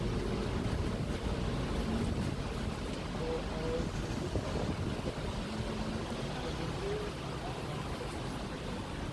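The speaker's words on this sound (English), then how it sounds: "so windy today" Steady, heavy wind roars across an open microphone at Speakers' Corner, a broad rumbling gust that continues without break for the whole stretch.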